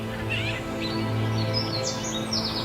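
Small birds chirping and singing over a steady low mechanical hum, several bright tweets and short whistled phrases scattered through the moment, with no talk.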